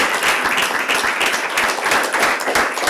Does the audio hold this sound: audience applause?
yes